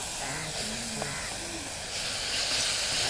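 Amaranth leaf paste fries in oil in a pan after ginger-garlic paste, making a soft, continuous hiss throughout with faint traces of a voice in the background.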